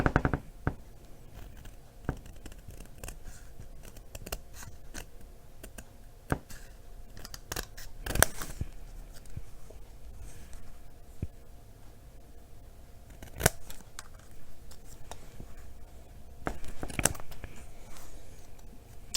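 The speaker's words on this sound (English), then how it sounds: "So I'm going to stamp it again on a scrap piece here. And we are going to just fussy cut it out." Scissors fussy cutting around a stamped image on a scrap of paper at a papercraft table: a run of small, crisp snips and clicks at irregular intervals, close and fairly quiet, with no talking.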